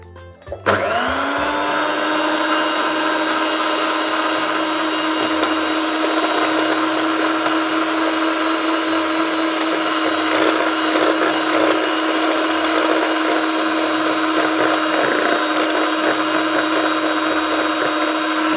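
An electric stand mixer beats lapis Surabaya cake batter, starting abruptly and then running as a steady, loud motor whine with a constant pitch and no pauses, heard alone without talk.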